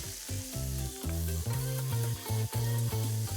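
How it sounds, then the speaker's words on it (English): Potatoes, onions, garlic and chopped tomatoes sizzle and fry in a hot pan for chili, a steady crackling hiss with tonal music playing underneath throughout. "I'm gonna add the potatoes and the onions, the garlic and the tomatoes that I chopped earlier into it"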